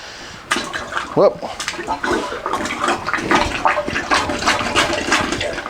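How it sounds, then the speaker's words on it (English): A plunger pumps water out of a toilet trap, giving repeated wet sloshing and gurgling bursts in quick succession, close and fairly loud, with short sucking splashes throughout. "we're going to use the plunger to plunge that water out of that trap"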